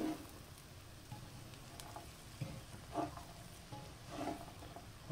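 Flour is stirred into Minas-style feijão tropeiro beans in a pan, making a faint, soft sizzle with a few gentle scraping stirs spaced through the quiet, close-up cooking.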